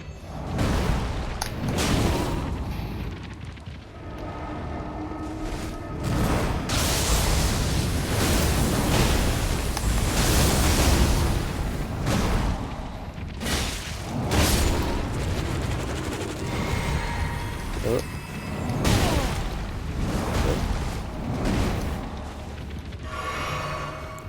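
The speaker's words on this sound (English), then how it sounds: "See, it sucks everything in and big explosion." Repeated booming blasts from a gravity spell in Elden Ring, a heavy implosion pulling in and bursting in big explosions, loud and dense throughout, layered with crackling impacts and rumbling game combat.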